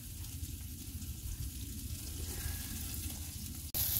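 Vegetable bhaji sizzles steadily in oil in a pan, a continuous hissing fry that stays even and close throughout, ending in a brief sharp clatter.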